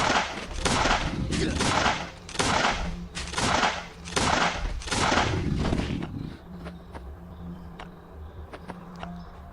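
Pistol shots fired at zombies in a video game, a series of loud, sharp bursts in quick succession for about six seconds, then fading to a quieter background with a few light clicks.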